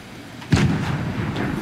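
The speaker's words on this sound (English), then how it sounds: "There's explosions on the bridge!" A single deep explosion booms in the Fortnite video game, a sudden loud blast followed by a rumbling, lingering decay with no talking.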